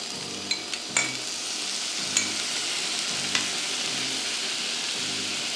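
Tofu fries and is stirred in a pan for a vegan carbonara, giving a steady close sizzle broken by a few sharp clicks and scrapes of the utensil against the pan.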